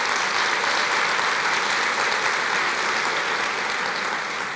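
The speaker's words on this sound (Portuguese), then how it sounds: "Pode dar uma salva de palmas ao Senhor." A church congregation breaks into loud, dense applause, a thick continuous roar of many hands clapping at an even level throughout with no voices standing out.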